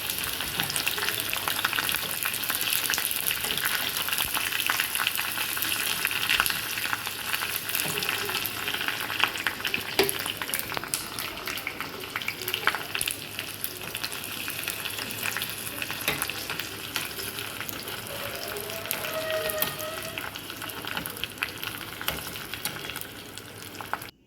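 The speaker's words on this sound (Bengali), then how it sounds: "এবার আমি তেলটাতে জবা ফুল আর কারি পাতাটা দিয়ে দেবো, দিয়ে নাড়িয়ে নিচ্ছি" Hibiscus flowers and curry leaves fry in hot oil, a steady, continuous sizzle with occasional scraping stirs, close and fairly loud throughout, no talking.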